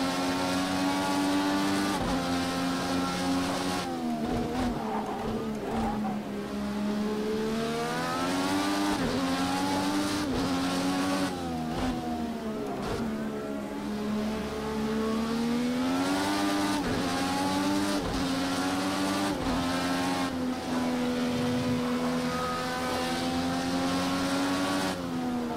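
Formula 1 race car engines roar at high revs in F1 2017, with rising and falling pitch through gear shifts, loud and continuous throughout with no talk.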